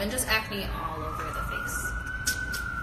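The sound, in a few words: emergency vehicle sirens outside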